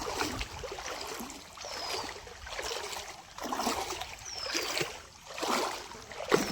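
Rushing water pours steadily over a lake spillway, swelling and easing in slow surges, with no voices.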